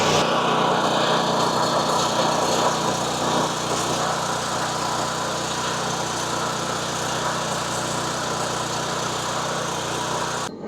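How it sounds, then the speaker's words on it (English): The gasoline engine of an RS-15D hot melt road marking machine runs steadily, a loud, continuous buzzing drone that stays even for about ten seconds with no speech. "Start the engine."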